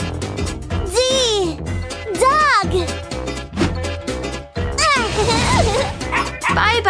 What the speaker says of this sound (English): D! Dog!